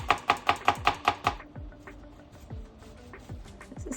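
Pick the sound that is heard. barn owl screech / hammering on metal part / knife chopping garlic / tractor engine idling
knife chopping garlic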